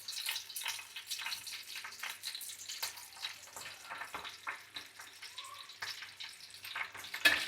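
Ghee sizzling in a pan while egg biryani is made, a faint, steady crackling fry with small pops and nobody talking.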